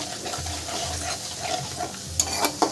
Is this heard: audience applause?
no